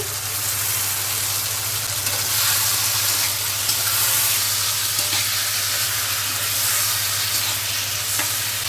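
Tomatoes go into hot oil in a pan for a spicy fish and potato curry, making a loud, continuous sizzle with steady frying hiss and stirring, no voices.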